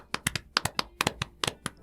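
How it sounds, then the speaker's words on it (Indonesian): A few people clap their hands in a short, uneven burst of sharp, close claps with no talk, after a host's call for applause at a smartphone review. "Tepuk tangan dulu."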